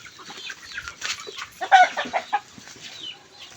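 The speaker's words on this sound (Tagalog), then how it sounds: "Daming manok oh." Chickens cluck on a farm, several close birds giving short irregular clucks and squawks in quick succession, with one sharper call standing out midway.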